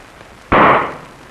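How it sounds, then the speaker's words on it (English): A single sharp, loud bang as an explosion tube ignites from static built up by a water dropper, a sudden burst that decays over about half a second in an otherwise quiet room. "sufficient static is generated to ignite the explosion tube"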